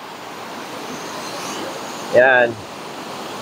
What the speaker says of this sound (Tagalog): Lakas ng alon na.